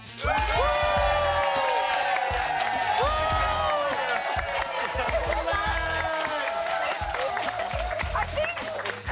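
An audience claps and cheers to vote for a contestant on a singing show. Strong voices and whoops ring out over the crowd noise throughout.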